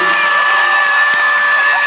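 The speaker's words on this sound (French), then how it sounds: "bien évidemment, on peut l'applaudir aussi," Premiere audience at Aladdin with Kev Adams cheering and clapping, a steady loud wash of crowd noise with whoops and shouting that holds evenly for under two seconds.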